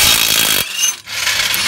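A power tool whirs loudly on an exhaust resonator bolt under an Infiniti Q50S, cuts off abruptly partway, then starts up again for a second short burst, close by with no talk.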